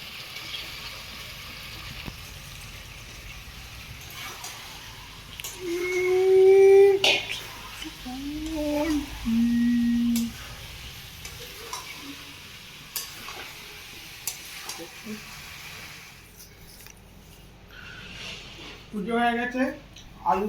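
Potatoes fry in oil with a soft, continuous sizzle and occasional stirring and clatter, under intermittent talk and voices nearby.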